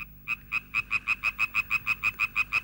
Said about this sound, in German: Die Laubfrösche sind die einzigen Kletterlurche ganz Europas.